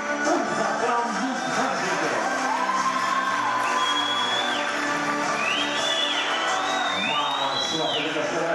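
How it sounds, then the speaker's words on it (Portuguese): A circus audience cheers and whoops, with shouts and excited voices rising and falling in a steady crowd roar that fills the whole stretch, close and fairly loud. "Un aplauso."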